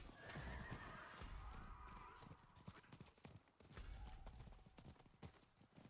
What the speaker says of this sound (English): Go, horsey, go.